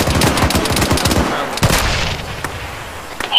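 Heavy gunfire in an Arma 3 battle, with a Sherman tank's big gun among it: a rapid string of loud, close shots at the start, then scattered bangs and distant reports trailing off.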